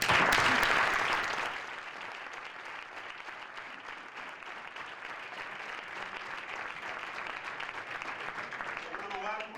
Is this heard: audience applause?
yes